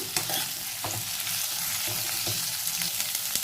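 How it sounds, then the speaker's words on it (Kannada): Chopped onions fry in a pan for raw tomato chutney, a steady close sizzle broken by a few soft scrapes and knocks of stirring, with no talk over it. "ಈರುಳ್ಳಿ ಹಾಕಿದ್ಮೇಲೆ ನೀಟಾಗಿ ಈ ಥರ ಮಿಕ್ಸ್ ಮಾಡಿಕೊಂಡು ಸ್ವಲ್ಪ 2 ರಿಂದ 3 ನಿಮಿಷ ಫ್ರೈ ಮಾಡ್ಕೋಬೇಕು ಚೆನ್ನಾಗಿ"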